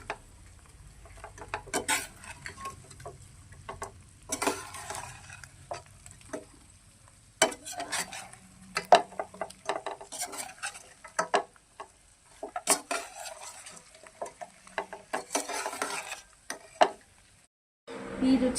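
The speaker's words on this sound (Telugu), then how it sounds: "ఒకసారి మసాలా అంతా కింద నుంచి ఇట్లా పైకి వేసేసుకోవాలన్నమాట." Fish pieces stirred in masala gravy in a pan, with scraping, clinking utensil strokes against a quiet sizzle, irregular and close, with brief pauses between bursts.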